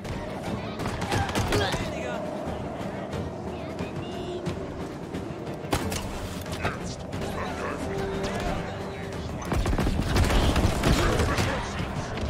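Gunfire in the Halo Infinite video game, dense and continuous shots and mechanical clatter through a busy battle mix, with a voice talking over it.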